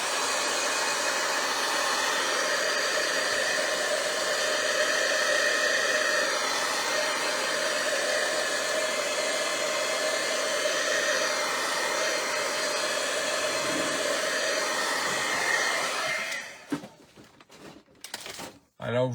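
A hair dryer blows steadily and loudly for most of the time, a constant whooshing hiss that cuts off near the end, followed by a few faint clattering sounds.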